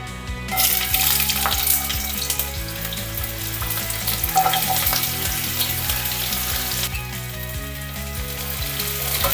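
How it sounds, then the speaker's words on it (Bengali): Sliced onion is dropped into hot mustard oil and fries with a loud, continuous close sizzle, heard beneath steady background music with no talking. "আমি এই পেঁয়াজটা গরম তেলেতে ছেড়ে দেবো।"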